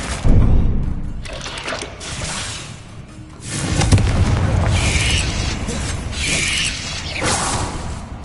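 The Confringo explosive spell in Hogwarts Legacy: booming bursts and crackling magical impacts, a strong hit at the start followed by further blasts and sparkly whooshes, with a voice calling out spells in between.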